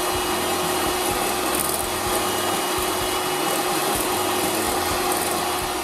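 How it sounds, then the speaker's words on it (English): Egg yolks are beaten with crème fraîche in a bowl for a French bistro omelette soufflé, a loud, continuous whirring and rattling that holds steady from start to finish with no voices. "we continue to beat the egg yolk"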